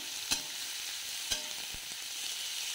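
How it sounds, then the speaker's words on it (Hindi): Onion deep frying in oil over low heat gives a soft, steady hiss, broken by two or three faint clinks of a stirring utensil, close and quiet with no voices. "अब इसमें हम डालेंगे प्याज, इसको भी हम धीमी आंच से डीप फ्राई कर लेंगे।"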